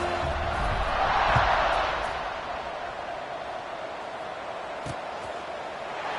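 College football stadium crowd at an Iowa kickoff in the second half, a broad continuous roar that swells for a moment, then eases back to a steady hum.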